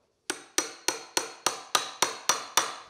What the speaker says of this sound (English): Just take it and hammer it on the back end like so.